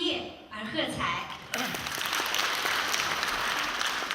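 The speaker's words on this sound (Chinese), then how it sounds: "让我们用掌声为他们甘当绿叶而喝彩" A theater audience at a 2007 Los Angeles Yue opera performance of Dream of the Red Chamber scenes breaks into dense, sustained applause that swells abruptly after a brief stretch of voice and stage sound.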